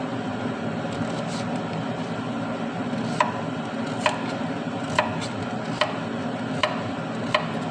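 A knife dices carrots into cubes on a cutting board for a simple vegetarian tomato soup, making about six evenly spaced, sharp, close chops over a steady low background hum.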